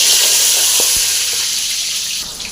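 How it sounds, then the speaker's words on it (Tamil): Small shallots frying in hot oil for a thuduvalai berry pickle, a loud, bright, continuous sizzle close up with a couple of soft knocks, easing slightly toward the end. "இது எல்லாத்தையும் சேர்த்து இப்போ நம்ம ஃப்ரை பண்ணிக்கலாம்."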